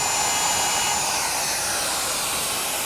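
A router rounds over the back edge of a wooden side chair, a steady high-pitched whine held at constant loudness, close and alone without talk.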